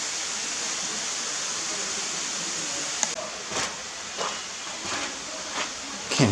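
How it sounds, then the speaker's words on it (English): Steady broadband rushing of a waterfall at Old Man's Cave in Hocking Hills State Park, after rain, fills the whole clip, joined by a few soft footsteps or knocks near the end. "I believe I hear a waterfall."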